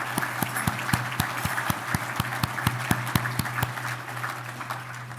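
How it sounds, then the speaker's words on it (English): Applause at an annual awards banquet, with a few pairs of hands clapping in a steady rhythm over a low room hum, fading slightly toward the end. "Let's please give them a big round of applause."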